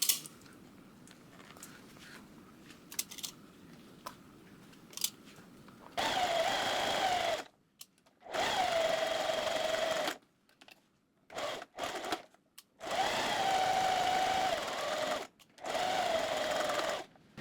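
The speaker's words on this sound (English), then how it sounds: "then I'm going to batch sew them" A sewing machine batch-stitches a hat's outer fabric and lining together in several bursts of steady whirring, each a few seconds long, separated by short pauses, with quieter handling noises near the start.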